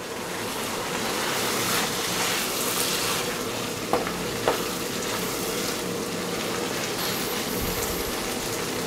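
Beef tripe and chopped garlic sizzling steadily in a hot pan, a dense continuous fry with two brief clinks of a utensil partway through.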